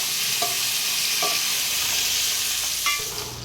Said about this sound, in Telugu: మనకి ఉల్లిపాయ, పచ్చిమిర్చి, పుదీనా అన్నీ మంచిగా వేగాయండి.